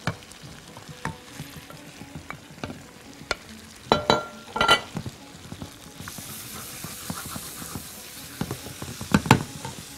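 Garlic and basil frying in a pan, crackling with dense pops and spatters and bursts of stirring clatter, close and fairly loud, with the sizzle brightening in the second half and no speech.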